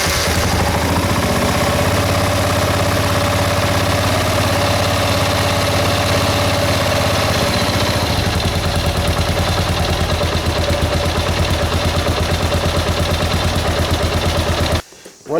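Loud, continuous idle of a Kawasaki KLR 650 motorcycle engine running close by, a steady rumbling throb whose tone shifts slightly partway through, then cuts off abruptly near the end.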